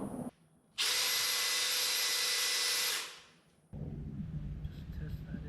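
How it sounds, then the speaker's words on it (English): A power drill set to drill-only mode, not hammer, whines loudly and steadily for about two seconds boring a hole into tile, then winds down, with quieter room noise before and after. "So I'm going to drill the second hole now."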